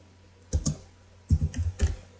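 Code being typed on a computer keyboard, two short bursts of close key clicks separated by a pause, with no talking.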